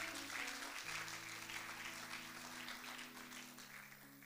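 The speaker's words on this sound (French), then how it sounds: "Acclame pour Jésus, bien-aimé." A church congregation applauding and clapping for Jesus in a steady, dense wash that lasts throughout, with sustained keyboard chords underneath.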